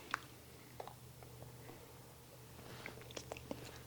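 Someone biting into a chewy peanut butter brownie and chewing, quiet and close, with a few soft crunchy clicks and wet mouth sounds over low background hum.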